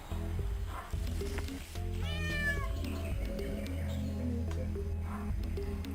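A cat meows once in the Emily the Strange Nintendo DS game, a short rising-and-falling cry over steady looping game music.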